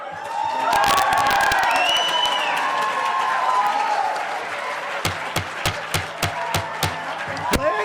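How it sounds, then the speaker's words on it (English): An audience at a city council meeting breaks into loud clapping, cheering and whoops, then the sound thins to a few scattered, sharp claps near the end. "Please, no cheering, clapping, please, for decorum."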